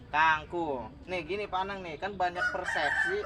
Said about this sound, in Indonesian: maaf itu suara ayam